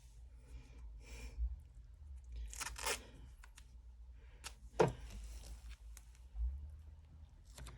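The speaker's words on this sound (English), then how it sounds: "And then tape it down." Adhesive tape torn from a roll and pressed down onto a fabric flap for a sling backpack, with a couple of quiet ripping bursts and a crackle amid soft handling noise.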